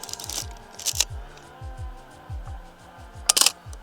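Pentax 6x7 medium-format camera shutter firing, a few sharp mechanical clacks heard up close against quiet handling noise, with no talking.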